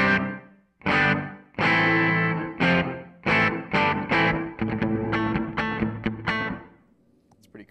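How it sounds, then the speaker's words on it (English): Distorted electric guitar through a TC Electronic Hall of Fame reverb pedal on its gate setting, played as a series of loud chords whose reverb tails cut off abruptly, then a faster run of strums that fades out. "Which kind of cuts off the reverb like a gated verb."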